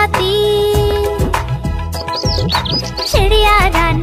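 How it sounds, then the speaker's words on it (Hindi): Sparrow chirps in a Hindi nursery rhyme: quick high tweets scattered through loud, bouncy children's music. "चिड़िया रानी बड़ी सयानी नित सवेरे हमें जगाती"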